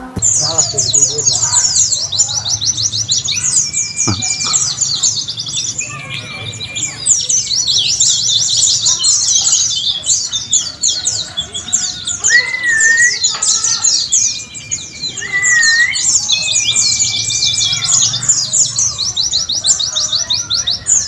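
A Buxtoni white-rumped shama sings continuously in rapid, high trilling phrases with occasional sharp whistled notes, loud and close, over faint background noise.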